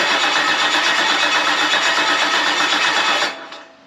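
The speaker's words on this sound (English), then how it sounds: "Crank it, let's see if it's got RPM signal." A 6.2 aluminum LS engine in a 1957 Chevy wagon cranks with a steady, loud, rapid starter churn that continues for about three seconds, then cuts off abruptly without the engine catching.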